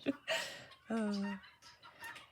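A goose honking indoors near a desk, a few short nasal calls with one longer sustained honk in the middle, fairly close and moderately loud, with small rustles between.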